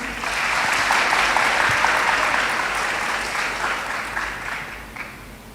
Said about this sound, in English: Audience, please give a big applause to Miss Emily Norris.